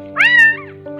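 Abandoned kitten at a market giving one loud, close, high-pitched meow that rises and falls, with a faint lower cry starting just after.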